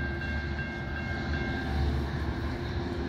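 A local commuter train at Prospect Heights railway station in the USA rumbles steadily and loudly, its wheels and motors giving a continuous low roar with faint tonal whine and no horn.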